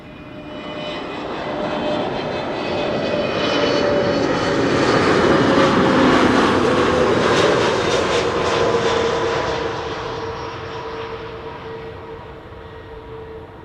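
A Suparna Airlines airliner passes at Schiphol Airport, its steady jet roar with whining engine tones building to a loud, close peak midway before slowly receding, with no voices.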